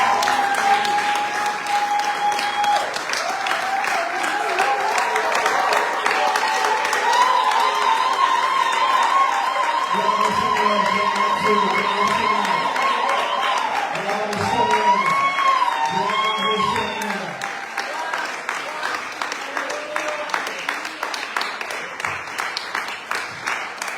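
A church congregation bursts into sustained applause and cheering, dense clapping and raised voices filling the room throughout, with shouts and sung or called-out phrases rising over the steady clatter of hands.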